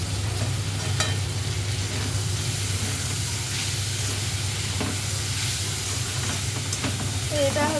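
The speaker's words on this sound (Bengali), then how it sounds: "পটল আর আলু ভাজা করছি" Pointed gourd and potato pieces frying in a pan, a steady close sizzle with occasional clinks and scrapes of stirring, and brief faint voice sounds in the background.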